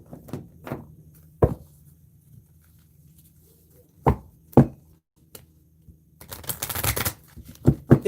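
Isis Oracle cards being shuffled and tapped, scattered sharp clicks and knocks with quiet gaps, ending in a denser riffling patter.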